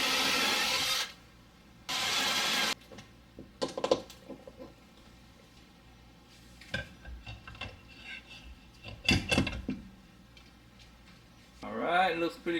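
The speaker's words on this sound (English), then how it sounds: "now I'm gonna pre-drill 2 holes right here for the mounting bracket" A power drill whirs in two short bursts, pre-drilling mounting-bracket holes for a water sediment pre-filter, followed by scattered clattering and handling noises of tools and wood nearby.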